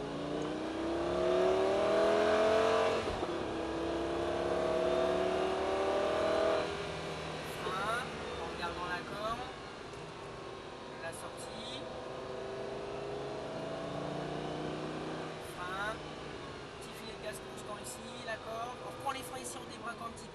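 Lamborghini Gallardo engine on a racetrack, a steady droning roar that rises as it accelerates and then settles, heard from inside the car under almost continuous French speech.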